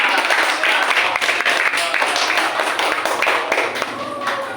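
A classroom group in a teacher-training session claps together in a dense, lively round of applause that tapers off slightly toward the end.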